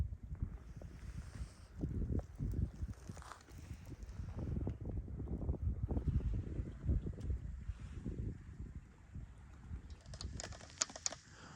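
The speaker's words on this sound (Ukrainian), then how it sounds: "Погода сьогодні зранку хоч і сонячна, але вітряна, вітрець такий похолодний." Gusty, chilly morning wind on a sunny spring day buffets the microphone outdoors while fishing, with low rumbling bursts that rise and fall, plus a few faint clicks near the end.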